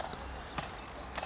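A calm horse walks across a bridge, its hooves giving a few sparse, fairly soft clops about half a second apart over a steady outdoor background hum.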